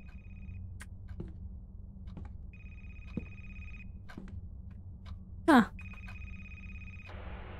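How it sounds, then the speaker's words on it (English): A phone rings inside a video game in repeated electronic bursts broken by gaps, with a short sweeping chirp near the end, heard against a low background hum; one brief exclamation from a voice. "My phone is ringing,"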